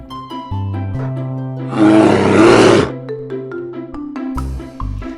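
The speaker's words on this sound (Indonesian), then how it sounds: "beruang." A bear roars in a children's animal-sound lesson, one loud broad growling burst of about a second set over a looping cheerful music bed with bouncy bass notes.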